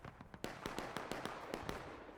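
Cannon and rifle fire on a Civil War battlefield in the game War of Rights, a rapid series of sharp cracks and booms at irregular short intervals, distant and faint.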